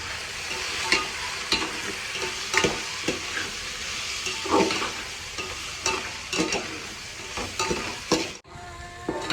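Whole spices and masala sizzling in hot oil as tempering for a chicken pulao biryani, a steady frying hiss broken by repeated spoon stirs and scrapes, with no talk.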